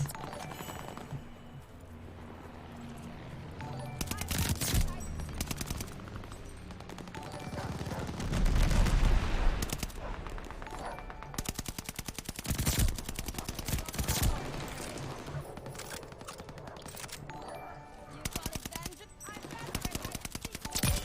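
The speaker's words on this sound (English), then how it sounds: "Friendly bombing run on the way." Video game bombing run with sustained gunfire, rapid machine-gun bursts and heavy explosive thuds rolling on continuously, mixed with faint voices underneath.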